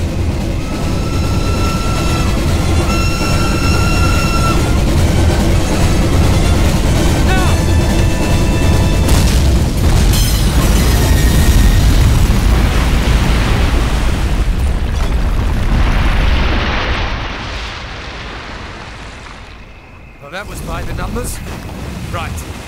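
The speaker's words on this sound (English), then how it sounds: "Detonate on my command." A large explosion blows up a train bridge in the Call of Duty: United Offensive video game, a long, loud, rumbling blast with debris noise that rolls on for many seconds before fading into quieter battlefield sounds.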